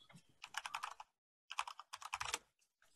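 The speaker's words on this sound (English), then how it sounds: "Did I type that right in?" Typing on a computer keyboard, two quick bursts of clattering keystrokes separated by a short pause, close and clear with no talk.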